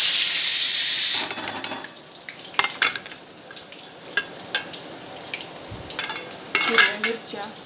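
Cumin and mustard seeds with chopped onion frying in hot oil: a loud initial hiss that settles into soft crackling and scattered scrapes and clinks of a spoon in the pan.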